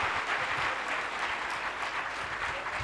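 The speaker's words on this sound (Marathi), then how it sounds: "एकदा बोकडाचं मटण खाल्ल्यासारखं जोरदार टाळ्या वाजवूया." Loud, sustained applause from an audience at a gathering on goat farming, dense clapping filling the whole stretch without a break.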